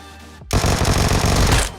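Automatic gunfire from PUBG Mobile bursts in loudly after a brief silence, with a rapid, continuous spray of shots that hold for about a second before cutting off.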